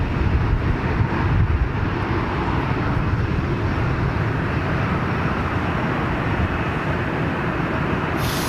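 Heavy jet airliners at London Heathrow, a steady loud roar of engines filling the whole stretch without letup, with no voices over it.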